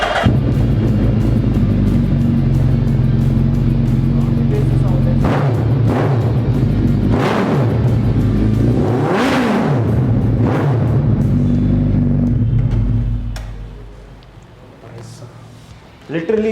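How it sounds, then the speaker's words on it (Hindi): Suzuki Hayabusa superbike engine and exhaust, loud and close, a steady deep idle broken by several sharp throttle blips and revs, then easing to a quieter idle before another brief rev at the end. "और अब सुनते हैं हायाबुसा का साउंड।"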